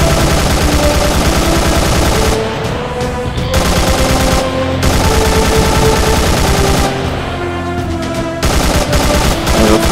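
Dense automatic gunfire in Arma 3 during a horror mission against an approaching horde, loud and continuous for the whole stretch with a few brief lulls, no talking over it.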